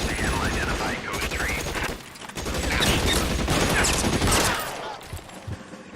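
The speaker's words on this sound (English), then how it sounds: "Shots fired." Video game gunfire in L.A. Noire crackles out in rapid bursts and volleys, loud and close, alongside a wailing siren early on, with brief pauses between the flurries of shots.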